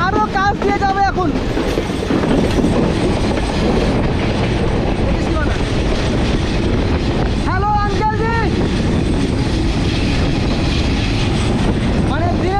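Moving train on the Hili border route, a loud, continuous rumble with rhythmic clickety-clack of wheels, squealing tonal whines at the start and again midway, and voices talking under the noise.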